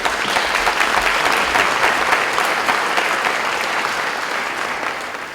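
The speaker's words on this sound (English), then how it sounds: "Give yourselves a round of applause for that." The Lee High School graduating class of 2015 breaks into loud, sustained applause at their graduation ceremony, a thick roar of many hands clapping that fades slightly toward the end.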